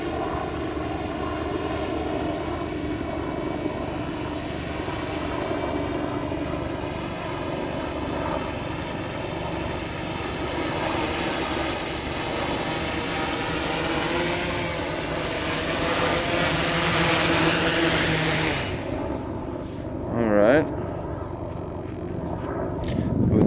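A drone fitted with a SuperX flight controller spins up and takes off, its propellers giving a steady, loud buzzing whine that holds for about twenty seconds before cutting off abruptly, followed by a few faint clicks.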